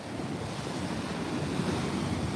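Big ocean waves crash and wash along a seashore in Sri Lanka, a steady broadband roar of surf mixed with wind noise on the microphone, fairly close and continuous with no voices.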